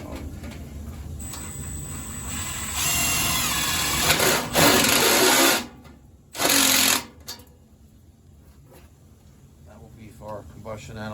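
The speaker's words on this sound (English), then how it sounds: "We're going to use a step bit about 6 inches off the top of the boiler." A step drill bit bores a small hole in the exhaust pipe of a boiler in a cramped closet, producing two loud grinding bursts of a few seconds each over a steady low background hum.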